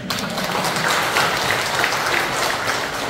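Applause from the audience at a community social security council training session in Pocheon, steady and fairly loud throughout, with a faint voice underneath.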